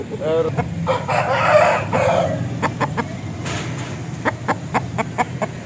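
A Thai aseel rooster crows near the start with a drawn-out, loud call, then clucks in short, sharp bursts through the rest. Low background murmur runs underneath.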